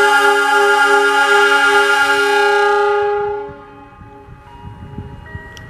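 The Saunggalih passenger train departs Cibatu station with a long, loud, sustained horn blast that fades after about three seconds into low rumbling rail noise.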